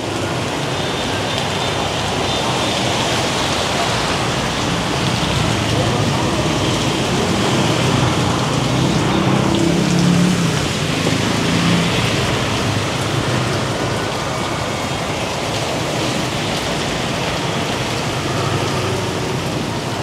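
Heavy rain pours steadily in Saigon as a dense, loud, unbroken hiss and patter on surfaces, with faint low sounds mixed into the downpour but no clear talking.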